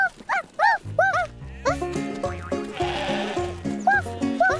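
Sheep bleat repeatedly, several wavering calls close by, with a dog barking in between and other farm noise around, from a cartoon.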